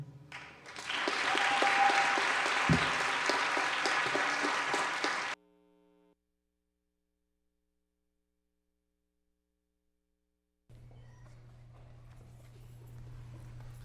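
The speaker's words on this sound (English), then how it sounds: "Let's give them another round of applause for this crowd" A crowd applauds steadily for several seconds, then the clapping cuts off into silence, followed later by a low steady hum.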